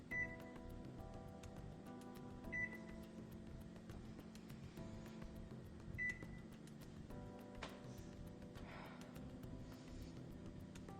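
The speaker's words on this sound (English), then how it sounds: "I just put it in the microwave" A microwave oven hums steadily with CO2 canisters loaded inside, its low drone continuous throughout, broken by a few brief metallic clinks and beeps.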